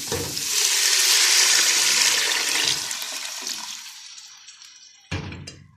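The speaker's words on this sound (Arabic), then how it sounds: "دلوقتي هنحط الشوربه" Strained broth pours into a pot of sautéed carrots and spiced onions for basmati rice, a loud rushing splash lasting a few seconds that tapers off, followed by a single sharp clatter.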